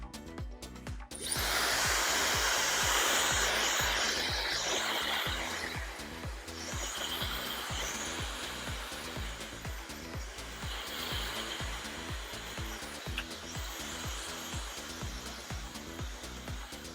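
A hair dryer blows steadily and loudly on a client's hair during a crop top low fade haircut, its whine shifting slightly as it moves around the head, running continuously with no talk.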